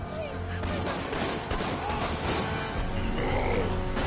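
Rapid gunfire in a Ragnarok video game, a continuous barrage of shots and crashes over a dense, noisy mix.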